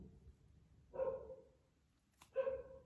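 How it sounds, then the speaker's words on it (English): Dogs bark in two short bursts, each a loud woof-like yelp, with a quiet pause between them and no talking over them. "The dogs are not gonna stop, so let's just continue."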